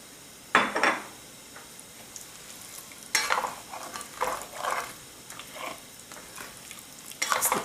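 Clam juice for a corn and smoked salmon chowder goes into a hot pan over potato starch, with bursts of hissing sizzle and several rounds of close, scraping stirring against the metal pan.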